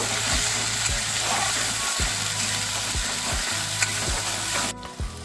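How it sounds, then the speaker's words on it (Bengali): Spice masala with turmeric stir-fried in a pan for Bengali pumpkin ghonto, a steady close sizzle broken by regular scraping strokes of a spatula, loud and alone. "এবার দিয়ে দেবো হাফ চামচ হলুদ গুঁড়ো মেরে চেড়ে ভালো করে কষিয়ে নেব"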